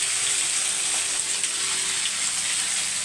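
Chopped ivy gourd sautés in an oil-filled pan, a close, steady crackling sizzle with no talk.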